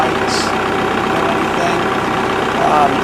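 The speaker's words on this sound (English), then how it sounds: "We'll start the tractor and show you." A 2021 Kubota MX6000 HSTC tractor engine idles with a steady, close diesel rumble that swells slightly near the end, with speech heard briefly.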